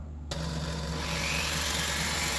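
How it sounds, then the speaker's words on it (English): A power drill spins the gear wheels of a 1920s Sessions mission style clock for polishing, starting abruptly and then whirring at a steady, continuous pitch. "You put your wheels in the drill"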